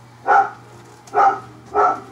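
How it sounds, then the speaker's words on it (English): Three short, loud whining cries from newborn Golden Retriever puppies, evenly spaced with quiet gaps between them, over a low steady hum. "in the background you might hear the puppies crying a little bit here and there."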